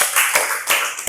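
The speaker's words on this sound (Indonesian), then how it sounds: "Yuk tepuk tangan untuk semuanya." Short bursts of group hand clapping in an Indonesian religious studies classroom, loud and close, coming in quick uneven waves.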